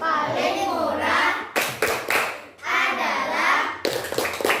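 Children clap their hands in a tepuk senyum clapping game during a classroom lesson, bursts of rhythmic claps mixed with young voices chanting and talking loudly close by.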